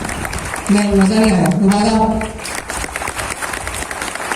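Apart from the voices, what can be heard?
class applause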